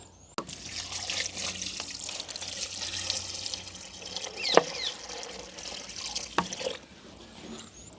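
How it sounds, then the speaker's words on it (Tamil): Water splashes and trickles steadily as goat bones are rinsed and rubbed in a sink, with a few sharper clinks standing out against the wash. "ஆட்டு எலும்புகளை நாங்கள் நல்லபடியாக ரெண்டு தினம் கழுவி எடுப்போம்"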